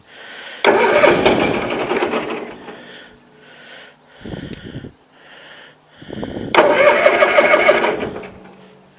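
An engine on a 20-G cranks and sputters to life twice, with loud, rough running bursts broken by a short lower rumble and pauses, heard up close.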